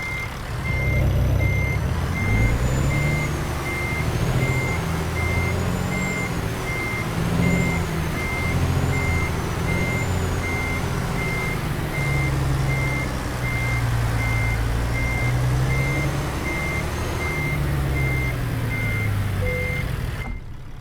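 An articulated truck backing into a dock in American Truck Simulator, its reversing alarm repeating steady evenly spaced beeps over a low diesel engine drone, continuous throughout with no talk.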